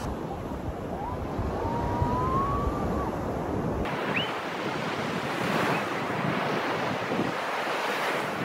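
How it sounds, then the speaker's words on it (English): Ocean waves breaking and washing on a beach, a steady broad roar of surf throughout with wind buffeting the microphone, and a faint siren wailing in the distance early on. "We're at the ocean right now."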